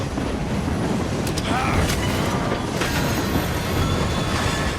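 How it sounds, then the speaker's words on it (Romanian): A steam-era train rolls along in the video game Assassin's Creed Syndicate, giving a dense rumbling clatter with brief metallic squeals and clicks, loud and continuous throughout. "De când e calul mai rapid decât trenul?"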